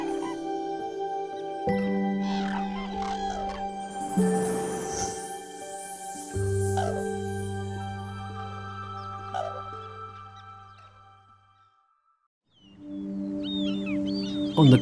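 Loud, trumpeting red-crowned crane calls ring out in long sustained honks and bugling notes from a wetland, overlapping at times, with a brief quiet gap before more calls.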